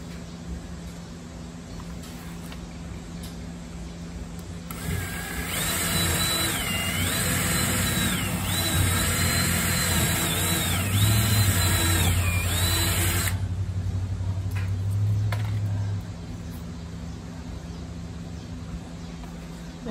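A power drill whirs steadily for several seconds while building a Wharram Tiki 21 boat, its pitch dipping and rising as it bites, over a constant background hum; no talking.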